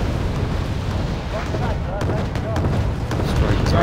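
Artillery barrage striking tank positions in the strategy war game Wargame Red Dragon, a sustained heavy rumble of overlapping explosions with sharper cracks and pops scattered through it.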